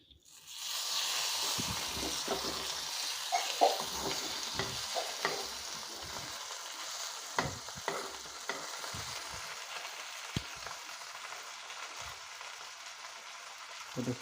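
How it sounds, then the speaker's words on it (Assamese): Local fish fries in a wok (kadai), a soft steady sizzle with intermittent spatter pops and utensil clicks, fairly quiet and close, no speech. "এইটো ফ্ৰাই হৈ আছে।"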